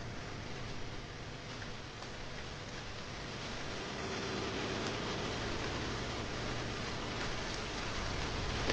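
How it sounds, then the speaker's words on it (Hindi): Rain pours down in a steady, dense hiss that swells slightly louder toward the end, with no voices over it. "मालिक, बारिश हो रही है।"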